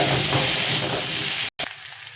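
Ground spices, coriander powder and garam masala, fry and get stirred in a pan for an egg and potato curry. A loud, dense sizzle continues with a brief cut of silence partway through, then quieter frying.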